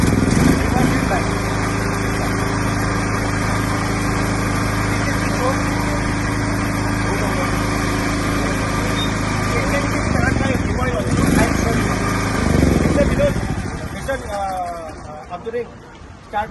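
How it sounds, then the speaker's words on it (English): A Bajaj ultra-compact petrol generator set, a 7.5 kVA self-start unit, runs with a loud, steady engine drone close by, people talking over it before the engine winds down near the end. "it's an ultra compact noise version Bajaj and petrol generator set, self start"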